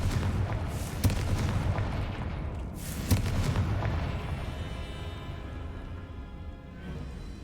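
Confringo blasting-spell explosions in the video game Hogwarts Legacy, a dense rumbling barrage of booms with a couple of sharper bursts, continuous and fairly loud before fading slightly.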